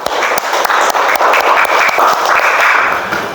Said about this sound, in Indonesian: Oke, tepuk tangan untuk teman kalian.